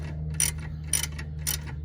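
A ratchet tightening the rear strut bolts on a 2007–2011 Toyota Camry, three quick clicking bursts at an even pace over a steady low hum, close and clear.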